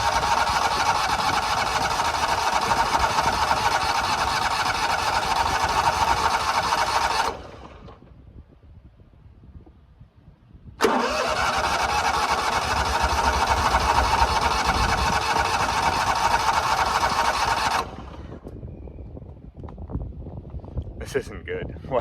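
A small lawnmower engine, running out of fuel at a speedway, runs loudly, abruptly cuts out, starts up again and runs for several seconds, then dies once more, leaving quieter background.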